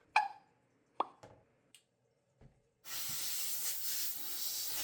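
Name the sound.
small steam cleaner spraying hot steam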